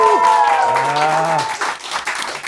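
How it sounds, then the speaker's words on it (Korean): Fans in a studio audience clapping, a busy patter of applause that starts under tonal sounds and voices, then carries on alone more thinly and unevenly. "마지막으로 JYP 팬들 박수 한번 쳐주세요."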